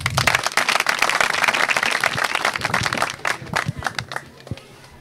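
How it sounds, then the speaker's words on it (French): Students and audience at a school show taping at a public school in Maroua clap loudly with dense, uneven claps that thin out and fade toward the end into a few scattered claps. "Sous vos applaudissements, s'il vous plaît."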